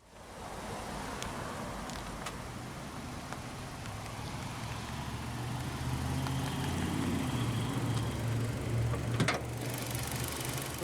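A 2019 Nissan Versa SV with a naturally aspirated 1.6-liter inline-4 settles into a steady low idle, a constant hum that thickens slightly partway through, with faint ticks and one brief clank.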